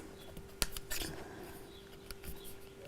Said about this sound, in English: I just want to trim the very edges